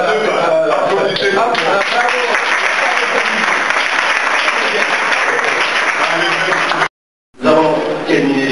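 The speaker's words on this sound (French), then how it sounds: "Applaudissez." Audience applause at a diploma ceremony, a loud, sustained wash of many hands clapping that cuts out abruptly near the end and then resumes briefly.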